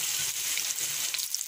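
Garlic and ginger sautéing in a pan, a bright, close, hissing sizzle with small pops, steady and unbroken for a brief moment.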